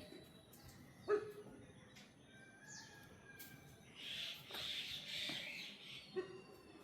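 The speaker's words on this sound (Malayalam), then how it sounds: "പുറത്ത് വീട്ടിൽ നായ കുരയ്ക്കുക" A dog barks outside a house in a quiet residential setting, giving a few sharp, fairly distant barks while birds call faintly in the background.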